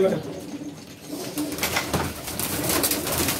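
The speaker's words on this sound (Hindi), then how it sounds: "पुराना कबूतर, सीजन का कबूतर है।" Old season pigeons coo in low rolling calls close by, partly under a voice speaking over the flock, with a busier mix of calls and noise toward the end.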